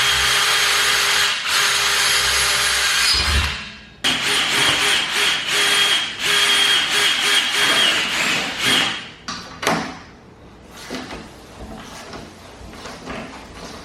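A power drill boring holes to mount a carbon fiber splitter on a car, a loud steady whine that runs, stops briefly, resumes, then breaks into short bursts as it trails off.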